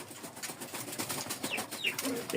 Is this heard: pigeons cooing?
yes